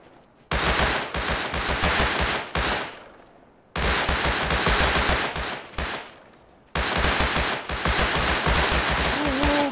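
Heavy automatic gunfire in the survival game Rust: three long, loud bursts of rapid shots separated by short pauses, with no talking.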